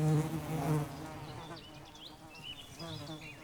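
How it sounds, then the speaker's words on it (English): Wild honey bees drinking at a hog wallow give off a continuous, close-up insect buzz, with individual bees whining past in rising and falling tones over the steady drone. "The bees take in water at the hog wallow."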